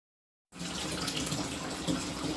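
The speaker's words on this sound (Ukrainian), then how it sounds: "Набираю ванну, зараз буду купатися." Tap water pours into a bathtub, starting abruptly after a short silence, then rushing and splashing steadily and close by with no voices.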